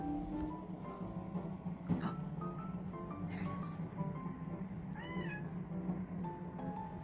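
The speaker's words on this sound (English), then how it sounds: "He's actually meowing throughout the video if you listen closely." An indoor cat meows repeatedly but fairly softly, several short plaintive calls scattered through the stretch over a low background hum.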